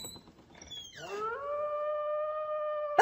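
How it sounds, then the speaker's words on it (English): A wolf howls in a fairy tale story, a single long, smooth rising howl that holds a steady pitch and rings out clearly after a brief rough onset, with no one talking. "You're not Red Riding Hood. You're a wolf."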